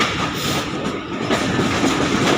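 The 37Up Fareed Express, hauled by an HGMU 30R locomotive, departs Khanpur Junction in Pakistan: loud, close, dense rumble and rattle of rolling rail cars, steady and broadband without a break.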